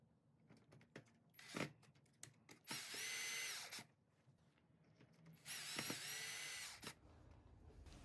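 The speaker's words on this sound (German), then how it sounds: "der Schließmechanismus in der Mitte der Griffleiste verschraubt werden" A power drill or screwdriver drives screws to fasten the locking mechanism at the middle of a fly screen door handle bar, with two sustained whirring bursts between clicks and handling noises.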